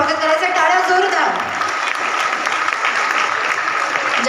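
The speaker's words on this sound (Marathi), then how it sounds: "त्यांचंही जरा जोरदार टाळ्यांनी आपण स्वागत करायचं. टाळ्या जोरदार." A crowd at a Haldi-Kunku women's gathering gives loud sustained applause, a dense wash of clapping throughout with a voice speaking over it at the start.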